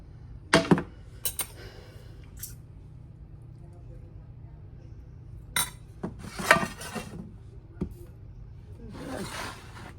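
Glass casserole dish knocking and clinking in a home kitchen near a hot stove, a few sharp separate clinks and rattles spread over quiet moments, close by.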